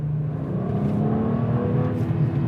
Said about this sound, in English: I get real S54 sounds from this straight six